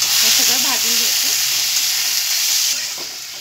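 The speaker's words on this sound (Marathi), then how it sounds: "याच्यातच कोथिंबीर आणि टोमॅटो भाजून घ्यायचं, मऊ शिजेपर्यंत हे सगळं भाजून घ्यायचं।" Coriander and tomatoes roast in a pan with a loud, close, continuous sizzle and hiss. Faint voice-like tones surface under it early on, and the sound eases slightly toward the end.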